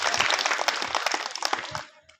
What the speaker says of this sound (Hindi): उन सारे लोगों के लिए एक बार तालियां बजा दीजिए